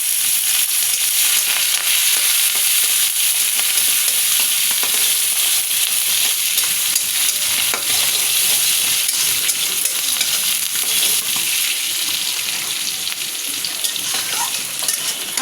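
Shrimp and chopped onion frying with black cumin in a pan, a loud, dense, continuous sizzle with faint stirring beneath it, close throughout.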